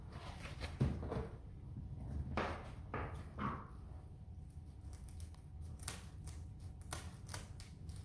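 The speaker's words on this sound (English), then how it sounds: "I'm going to cut it along this line through here." A seagrass mat is cut along a marked line for a pot cover, giving faint, repeated crisp snips and rustles spread irregularly over several seconds, no voices.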